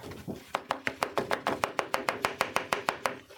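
Close, steady tapping of a card or stamp against a work surface to knock off excess embossing powder: about fifteen quick, evenly spaced taps, crisp and fairly quiet, with no talking.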